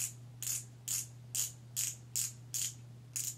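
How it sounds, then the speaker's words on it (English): A twist-up lip tint tube's small plastic mechanism clicks in a regular rhythm, about eight quick ratcheting clicks, close and fairly quiet over a faint background hum. "I'm not a fan of this twist up. This one makes a little bit more noise"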